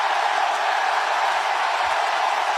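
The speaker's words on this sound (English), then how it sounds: "Listen to this crowd. Listen to this sold-out crowd here in Greensboro." A sold-out wrestling crowd in Greensboro roars in a dense, steady wash of cheering that holds at an even level throughout, with no single voice standing out.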